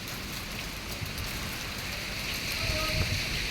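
Steady rain falls during an unseasonal storm over farmland, a dense continuous hiss of drops hitting surfaces, close and fairly loud, with no talk.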